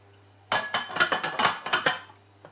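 Metal lid clanking onto a pan of Brussels sprouts, a quick series of bright rattling clinks and taps close up, settling after about a second and a half.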